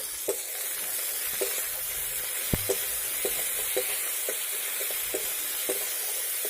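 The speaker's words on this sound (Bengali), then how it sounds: "তো এবার ক্যাপসিকাম আর পেঁয়াজটাকে আমি ভালো করে ভেজে নেব" Capsicum and onion frying in a pan with tomato puree, a steady soft sizzle with periodic clicks of a spoon stirring against the pan, no voices.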